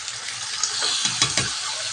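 Fatty country chicken meat sizzles loudly in hot oil, with a steady fry punctuated by a few stirring scrapes and clinks near the end, no voices.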